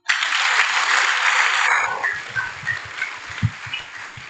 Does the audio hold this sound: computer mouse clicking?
no